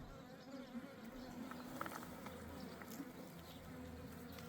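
Honey bees hum and buzz around a hive frame outdoors, a dense steady drone with individual bees passing close now and then.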